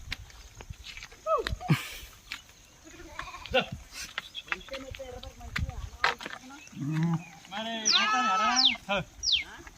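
Several sheep bleat, wavering calls near and far, with a loud cluster of overlapping bleats toward the end; footsteps and outdoor rustle underneath.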